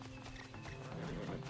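Horse hooves clip-clop and a faint whinny sound in a video game, quiet and brief under a low background drone.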